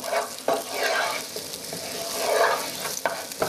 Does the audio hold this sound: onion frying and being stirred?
yes